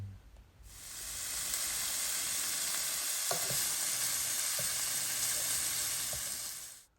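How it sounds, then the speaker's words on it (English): Seasoned shrimp fry in a pan with a steady, bright sizzle that begins abruptly and holds evenly. A few soft utensil clinks sound partway through before the frying cuts off near the end. "while we've got that shrimp cooking for a few minutes on each side to get it nice and pink"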